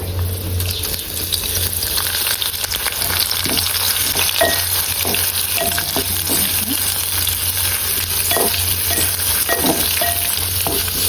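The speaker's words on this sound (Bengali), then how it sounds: "তেল গরম হয়ে এসেছে আমি এখন গোটা গরম মশলা তেজপাতা দিয়ে দিলাম ফোড়ঙে তারপরে এখন দিয়ে দেব আমি পেঁয়াজ কুচি" Chopped onion with whole garam masala and bay leaf fries in hot oil in a clay pot, giving a close, steady crackling sizzle throughout, broken by occasional stirring scrapes and small pops.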